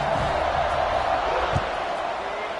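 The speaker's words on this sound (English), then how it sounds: "this crowd is buzzing after that last score" A football stadium crowd buzzes after a score, a broad steady roar of many voices at a distance with a brief thump partway through.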